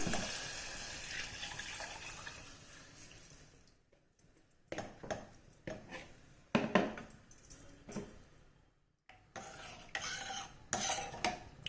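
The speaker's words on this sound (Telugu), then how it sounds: "ఈ స్టేజ్లోనే మనం ముందుగా కొబ్బరి పాలు చేసి పెట్టుకున్నాం కదండి, అవన్నీ యాడ్ చేస్తున్నాను" Coconut milk is poured into a tomato garlic chutney, a steady close splashing pour for several seconds, then intermittent stirring with light clinks of a spoon against the pot. No one speaks.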